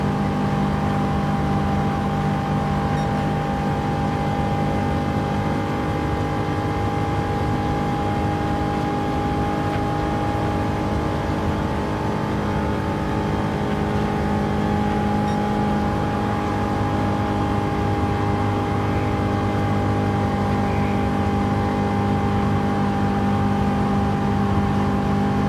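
A race car engine in Gran Turismo 7 holds near its top speed on track, giving a loud, steady, unbroken droning whine with no gear changes or talk.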